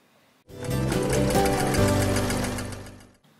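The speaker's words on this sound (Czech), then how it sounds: "Takže teď si našpendlete a prošijte ty boční hrany záclony. Budeme šít normálně tady v krajíčku" A sewing machine runs a straight stitch along the side hems of a curtain, a loud, continuous rapid whirring burst of about three seconds that starts and stops abruptly, with no voices.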